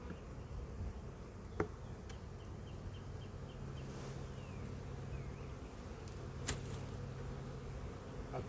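A honeybee swarm hums softly and continuously outdoors, a faint, even buzz with occasional single bees droning past and a couple of light taps.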